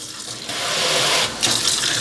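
A kitchen faucet in a house for sale gushes at strong pressure, a loud steady hiss of running water that surges, dips briefly and then continues, with no talking.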